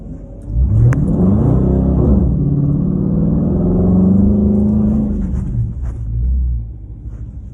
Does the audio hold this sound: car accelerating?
yes